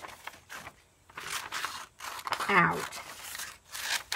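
Scissors roughly cutting paper fish shapes for a craft, with crisp snipping and crinkling paper sounds near the microphone, broken up by brief pauses while someone talks over them.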